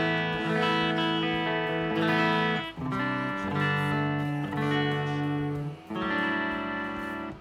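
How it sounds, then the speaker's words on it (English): Clean electric guitar tone run through the Neural DSP Pliny X plugin, played as sustained ringing chords and notes in steady phrases with brief gaps between them, close and alone with no talking. "I got a very clean sound going through the Neural DSP Pliny X plugin."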